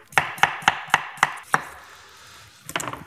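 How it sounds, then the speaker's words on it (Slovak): A knife slices washed potatoes into thin slices on a cutting board: six evenly spaced, crisp chops, a short pause, then a quick burst of faster cuts, close and distinct with no talking. "Zemiaky si takto nakrájeme na plátky."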